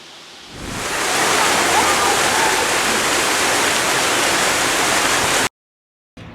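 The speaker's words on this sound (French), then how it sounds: "derrière moi se trouvent les fameuses cascades d'El Horit" The El Horit waterfalls in Tlemcen, Algeria, the country's highest falls, give a broad, steady roar of falling water that swells in during the first second, holds loud and even, then cuts abruptly to silence near the end.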